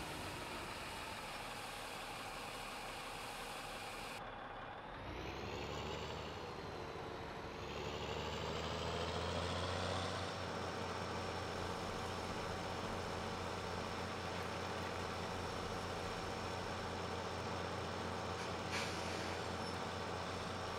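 A tractor engine in the Farming Simulator 17 video game idles and drones steadily and loudly, with a shift in pitch and load partway through, then settles into an even hum with no talking.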